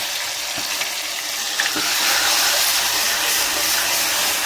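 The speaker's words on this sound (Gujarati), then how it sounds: "એની અંદર આપણે જીરું નાખી દઈશું ત્યારબાદ આપણે એની અંદર કઢી પત્તા નાખી દઈશું પછી આપણે લીલા મરચાં નાખી દેવાના" Cumin seeds, curry leaves and green chillies sizzling in hot oil for Rajasthani dal thetho, a steady loud hiss throughout with a brief spatter near the middle, no talking.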